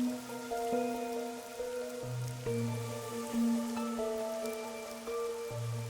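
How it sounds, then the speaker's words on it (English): Steady soft patter of rain falling in the video game Master Detective Archives: Rain Code, faint and continuous beneath sustained musical tones, with no voices. "The rain, it never stops."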